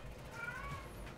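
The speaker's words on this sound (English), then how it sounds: "if you don't quit meowing" A dark house cat meows once, a brief, faint drawn-out call in a quiet room beneath low rumbling background noise, with no talk.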